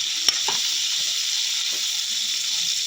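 Chicken pieces fry in a pan, giving a steady bright hiss and sizzle with one sharp clack near the start, close and loud, no talking.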